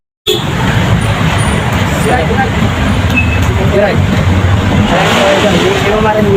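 Heavy night traffic on a Manila street, with many vehicles rumbling and revving nearby in a continuous dense roar and a few faint horn-like tones. A person speaks briefly.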